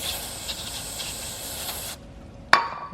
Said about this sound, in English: you just get some brake cleaner and you start going at it